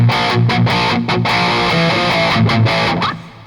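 A distorted electric guitar runs up an E Locrian scale in a thrash metal style, fast picked notes in a tight chugging rhythm, loud and dry with short breaks between phrases and no voice over it.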